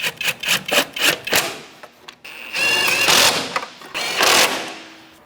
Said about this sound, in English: Let's tighten these up.